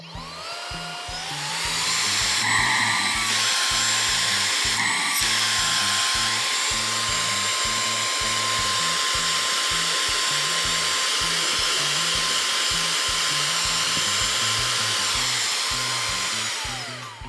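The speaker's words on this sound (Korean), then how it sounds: "이런 쇠나사를 빨아들여 보면" A small cordless electric air duster in vacuum mode whines loudly and steadily, its pitch dipping briefly twice as metal screws rattle through the nozzle, then running evenly until it shuts off.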